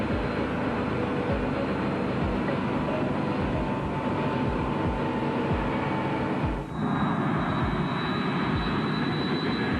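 Boeing 777 jet airliner on its takeoff run, a steady, loud broadband roar of engines at full thrust that holds without a break, its tone shifting slightly partway through.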